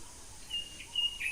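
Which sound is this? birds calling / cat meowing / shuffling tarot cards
birds calling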